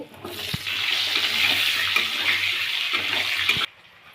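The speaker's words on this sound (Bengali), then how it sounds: "এখন আমরা লম্বা লম্বা করে কেটে রাখা আলুগুলো প্রথমে ভেজে নেব" Potato strips hitting hot mustard oil spiced with five-spice, a loud steady sizzle and crackle of frying that holds evenly for several seconds before cutting off abruptly.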